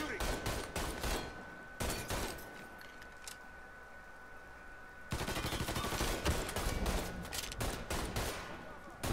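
Gunfire in the Mafia III video game, two bursts of rapid shots crackling close and sharp with a quieter lull between them, a voice speaking briefly amid the firing.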